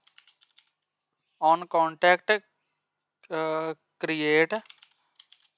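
Computer keyboard keys tapped in short quick runs between stretches of someone speaking Hindi, the clicks light and close, partly sitting beneath his voice.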